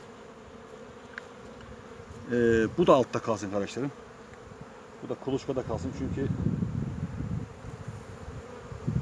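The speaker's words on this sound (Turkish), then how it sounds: "erkek arılar da cirit atıyor" Drone honeybees buzz in a steady, droning hum throughout while someone talks over them up close.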